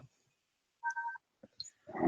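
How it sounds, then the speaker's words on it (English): A phone's incoming call tone sounds as a brief steady two-tone burst, followed by a few short electronic blips and a rising noisy swell, fairly quiet with no talking. "I've got an incoming phone call."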